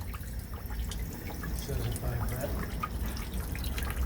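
Fluid draining out of a vehicle, a quiet continuous trickle and spatter of liquid running down into a catch container, steady and close throughout.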